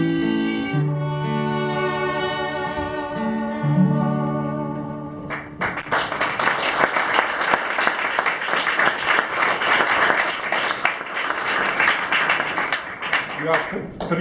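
Audience applause at an Ars Viva 2017 concert in a cultural centre and youth hostel, following a sung piece: the song's final sustained notes fade out, then dense, loud clapping from the crowd continues steadily to the end.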